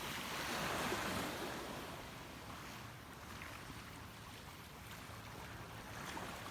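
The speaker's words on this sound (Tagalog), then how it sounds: "Lumalakas ng alon." Strong ocean waves stirred up by an approaching typhoon wash against a shore where fishing boats have been hauled up. The surf is a steady, distant, hissing rush mixed with wind, faint overall and without voices.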